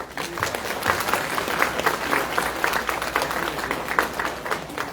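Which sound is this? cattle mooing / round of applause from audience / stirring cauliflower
round of applause from audience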